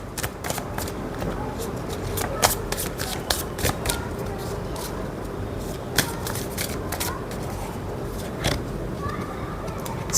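Oracle cards riffle and slap in rapid, uneven bursts of crisp card shuffling, close by, with a voice talking over it.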